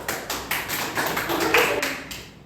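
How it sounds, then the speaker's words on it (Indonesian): A Grade 4 elementary classroom claps for a group after its animal diorama presentation, with several quick rhythmic bursts of hand claps that fade out near the end. "Tepuk tangan dulu"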